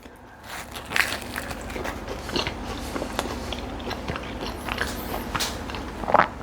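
Someone bites and chews a crunchy homemade Italian pizza crust up close, with scattered crisp crackles and crunches in an uneven rhythm and no talking.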